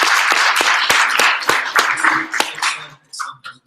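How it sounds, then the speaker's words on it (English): Applause at a 1 Million Cups Little Rock startup pitch event, a dense burst of clapping from a small audience that thins to scattered claps and fades out near the end. "Let's give another big round of applause to Keith."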